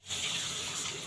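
Water runs steadily from a tap, a continuous close gush lasting about a second with no talking.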